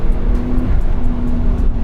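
A 2017 Porsche 911 Turbo S (991.2) launching under launch control, its engine note a loud, steady drone that holds close and constant throughout, with no voices over it.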